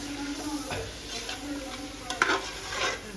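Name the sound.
stirring mutton biryani masala with yogurt in sizzling pot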